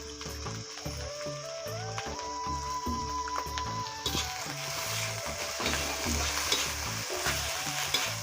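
Turmeric and chili powder masala stirred in a sizzling pan as fish fries in a village kitchen, with constant frying hiss and rhythmic scraping strokes of the spoon, close and steady, no voices.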